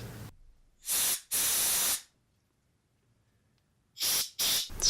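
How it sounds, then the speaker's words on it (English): Compressed air is blasted through the small orifices of an ice auger carburetor during cleaning, heard as four loud, close hissing bursts: two in quick succession, a silent gap, then two shorter ones. "let's give her some compressed air"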